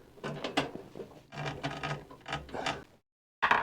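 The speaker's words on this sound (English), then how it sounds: "we're going to use our Be Quiet screwdriver" A Be Quiet screwdriver turns screws while a PC motherboard is mounted in a case, with a run of quick close clicks and ratcheting scrapes in bursts, then a brief silence and one more click.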